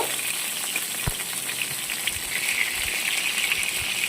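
Steady hiss of potatoes frying in hot oil in a wok, with a few soft clinks and stirring bumps scattered through, close by and fairly quiet.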